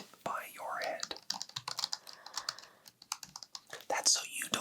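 Rapid, uneven clatter of fingers typing on a computer keyboard during a roleplay job interview, close and crisp, with bursts of keystrokes and brief pauses, soft whispered talk woven through.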